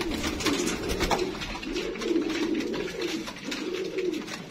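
Low, rolling coos from Sialkoti red-beaded pigeons repeat in soft rhythmic phrases, close and steady, against a faint rustling background with no talking.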